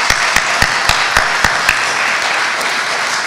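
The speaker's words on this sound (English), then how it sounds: "please give me one more round of applause to our candidates" Evening audience at a provincial candidates forum applauds the candidates with a dense wash of clapping. A few louder, closer claps stand out over the crowd in a rough rhythm, and the applause then settles into a softer, even patter.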